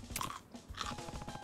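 A character bites into crunchy food in the video game Yakuza: Like A Dragon, with two close, crisp crunching bites and brief chewing, fairly quiet and without talk.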